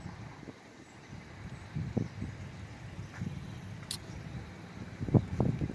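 A car passing along a road in a small North Carolina town, a soft, moderately distant engine and tire rumble that swells toward the end over light wind noise.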